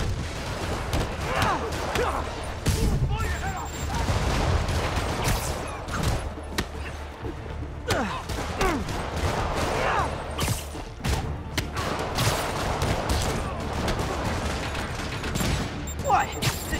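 Rockets fired in Marvel's Spider-Man Remastered, heavy booming thumps and blasts layered over dense game noise, repeated throughout at a steady loud level with speech-like voices mixed in.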